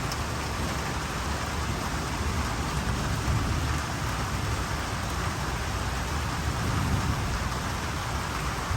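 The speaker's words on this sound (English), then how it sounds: "So just getting a little bit of this monsoon storm." A monsoon thunderstorm on an early morning pours steady, heavy rain in a dense, constant hiss that drums on surfaces nearby. Low rumbling sits underneath, and no one speaks.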